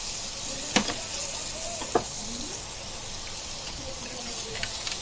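Biryani masala frying and being stirred in a pot, giving a steady broadband sizzle with a couple of sharp spoon clinks and faint stirring scrapes, close and moderately loud with no talk.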